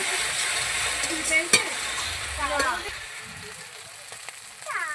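Chicken frying in a pan with chili paste and ginger paste, a steady broadband sizzle with occasional stirring scrapes and clicks, with a voice speaking over it.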